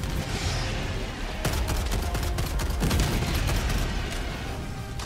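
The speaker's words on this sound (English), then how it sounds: "And there's the ray gun." Ray gun fire in the video game Helldivers 2 comes as loud, dense bursts of rapid crackling shots mixed with booming impacts, sustained throughout.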